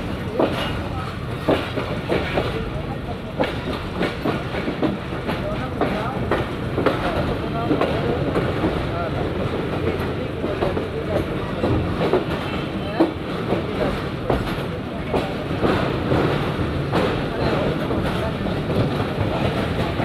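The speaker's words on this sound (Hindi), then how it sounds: "और शहर से गुजरती हुई ट्रेन" The Shalimar Express runs on the rails with a steady rolling rumble and rhythmic clickety-clack from the wagons, continuous and loud for the whole stretch, with a faint voice now and then under the din.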